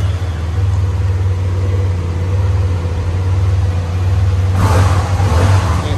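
A 2018 Yamaha TMAX DX 530 scooter idles with a steady, low engine drone, and an electric cooling fan can be heard running. A brief rise in the engine note comes near the end.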